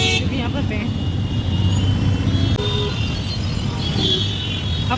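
Stuck in a half-hour traffic jam, a voice speaks over a dense, continuous din of idling cars, trucks and buses with scattered horn toots throughout.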